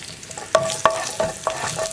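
Curry leaves and a pinch of asafoetida fry in a pan for tomato chutney, giving a steady sizzle broken by a few crisp spatula scrapes and clicks, with no voices.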